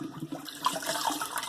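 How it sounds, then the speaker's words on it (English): Warm water drains out of a shaving lather bowl, a short gurgling, trickling burst of liquid close by, with no speech. "Drain that warm water"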